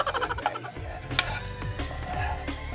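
All-purpose flour is stirred into oil in a pan to make a roux, giving a soft scraping and gentle sizzle that runs continuously beneath background music.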